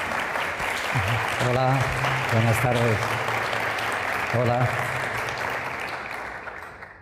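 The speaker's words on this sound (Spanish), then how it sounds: "un aplauso" Applause from an audience at an art and design school event in Tenerife, a steady wash of clapping throughout while a man greets the room over it.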